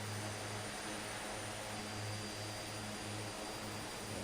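A steady, loud airplane engine drone in a flight simulator game, flying over Fraser Island in Australia below full throttle; the roar holds even and unbroken throughout, with no talking.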